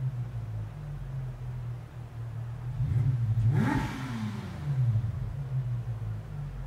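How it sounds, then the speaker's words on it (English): A German car's engine in Gran Turismo 7 idles with a low hum, then revs up sharply and falls back to a steady idle, close and fairly loud. "Listen to the engine."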